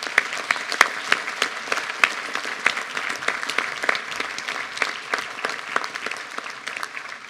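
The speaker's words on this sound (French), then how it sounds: "je crois qu'on peut les applaudir pour le travail qu'ils font" A New Year's greetings audience claps for the police and gendarmerie, dense, even applause from many people in a hall, sustained at a steady level from start to finish with no voices over it.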